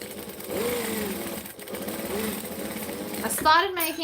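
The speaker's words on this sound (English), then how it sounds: "I'm going to chain sew these because, you know, chain sewing's fun and quite productive" A sewing machine chain-sews fabric pieces in bursts of close, buzzing motor hum and needle patter, with a voice talking over parts of it.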